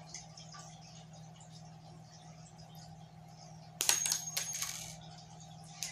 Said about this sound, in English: Now we're going to cut the hook off.